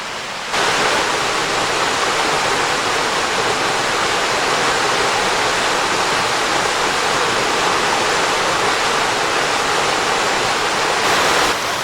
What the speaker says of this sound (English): plenty of little waterfalls or cascades down in this little gorge